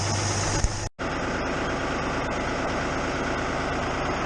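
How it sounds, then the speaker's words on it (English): A New Holland TN70 tractor engine runs at a steady, loud idle on a chilly day, a dense continuous rumble after a brief cut at the start. "we've got the tractor running, New Hollands are running."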